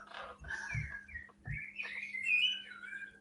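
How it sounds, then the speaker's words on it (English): Birds chirp and whistle outdoors in a series of bright, rising calls, fairly close and clear, with a faint low hum and a few soft thumps underneath. "It's not the kids, it's the birds."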